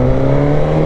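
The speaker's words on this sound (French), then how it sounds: "au niveau de la sonorisation, on a exactement le même bruit pour vous dire que c'est le même moteur" A 2021 Suzuki GSX-S1000 motorcycle engine running at low revs, a loud, steady, close rumble with a firm low hum throughout the brief moment.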